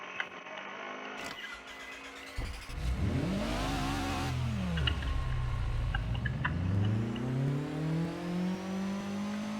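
A car engine in a Minecraft car mod game revs and accelerates, its tone sweeping up and down, then climbing steadily in a loud, continuous whine with no voices.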